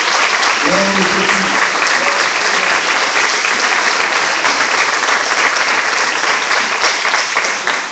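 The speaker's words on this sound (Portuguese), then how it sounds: "Vamos aplaudir a Deus pela sua vida" A church congregation at a missions service applauds in praise, loud continuous clapping from many people filling the room, with a brief voice audible near the start under the applause.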